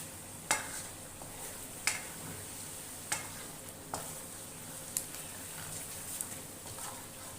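Cumin seeds roasting in a pan for aloo gosht, a quiet, low sizzle under a run of sharp, evenly spaced scrapes and taps from stirring, about once a second, with no talk.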